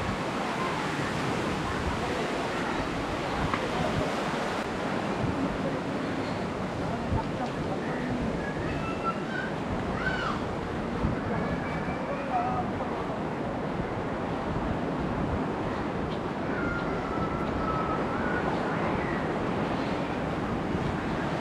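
Sea waves wash onto the shore at Ramatirtham beach in Gokarna as a constant, broad roar of surf mixed with wind, steady and fairly loud with no clear breaks.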